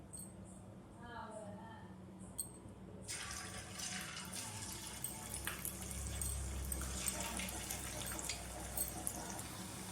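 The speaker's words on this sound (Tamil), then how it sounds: "இப்போது எண்ணெய் நல்லா ஹீட் ஆகிட்டு இப்போ காலிஃப்ளவரும் ஒன்று ஒன்றா போட்டு எடுத்துடலாம்." Cauliflower pakoda pieces drop into hot oil and fry with a steady, close hissing sizzle that swells after a few seconds, and a voice is heard briefly beforehand.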